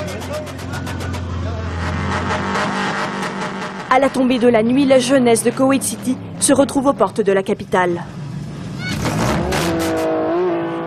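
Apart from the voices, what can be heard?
cars revving and drifting in Kuwait City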